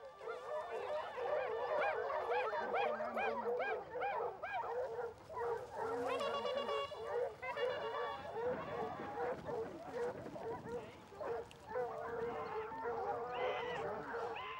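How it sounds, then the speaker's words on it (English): A pack of hunting dogs bays and barks almost continuously during a fox hunt, overlapping yelps and howls close and loud, with a few higher whimpering cries mixed in. "the dogs pick up the scent of another fox"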